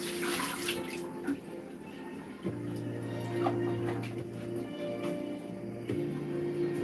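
Tap water runs steadily over broccoli for a quick rinse in a home kitchen, a continuous close splashing hiss with a faint background hum and no pauses.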